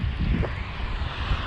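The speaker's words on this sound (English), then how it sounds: "it's pretty windy here" Steady wind buffets a microphone outdoors near a road intersection, a low rumbling roar with gusty swells throughout.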